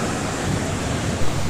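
Sea waves wash onto a sandy beach in a steady, loud broadband rush of surf with some wind noise, no voices.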